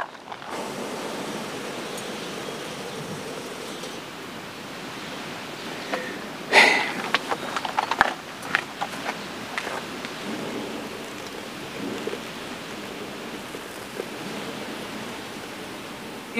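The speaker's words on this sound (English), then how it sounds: "the rain's starting to come down" Rain begins falling outdoors in a windy wildlife setting, a steady broad hiss of drops with a few sharper close taps and patters midway, continuous throughout.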